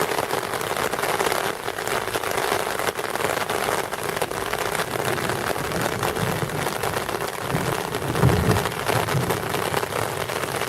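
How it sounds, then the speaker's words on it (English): Steady rain shower in Cuernavaca, Mexico, a dense even patter of drops on surfaces filling the whole stretch, loud and continuous with a slight swell near the end, no voices. "So I don't know why it's raining so much"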